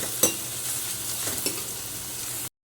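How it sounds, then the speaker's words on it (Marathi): Onion, tomato, carrot, green peas and sweetcorn being sautéed in a pan, a steady close sizzle with a couple of sharp spoon-stirring clacks, no talking. "कांदा घालायचा आहे टमॅटो घालायचा गाजर घालायचं आहे हिरवे वाटाणे घालायचे स्वीटकॉर्न घालायचं आहे सर्व परतून घ्यायचं"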